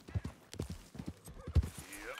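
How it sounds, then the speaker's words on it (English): Horse hooves clip-clop on a trail in the video game Red Dead Redemption 2, a handful of uneven steps close by, mixed with game ambience and a passing swoosh near the end. "Horse doesn't want me to go that way."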